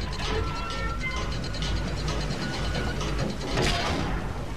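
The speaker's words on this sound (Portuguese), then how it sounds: "vai pra outra manivela e me ajuda a abrir isso" A crank mechanism in Uncharted 3 is turned to open a water gate, giving a loud, continuous ratcheting clatter of gears and pawl that repeats steadily, with a brief heavier grind near the end and no speech.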